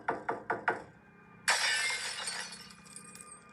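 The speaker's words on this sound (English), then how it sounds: "There was this quick and sudden loud bang on the glass, followed by a window in the kitchen completely shattering." Four quick knocks on glass are followed by a kitchen window shattering in a loud burst, with crashing glass that fades into scattered tinkling shards.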